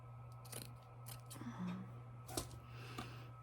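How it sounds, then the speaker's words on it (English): Scissors cut through a felt scarf at an angle, giving a few quiet snips and crunchy clicks spread over a few seconds against a low hum. "Take this, I'm going to cut it at an angle."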